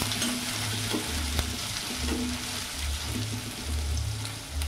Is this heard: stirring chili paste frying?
yes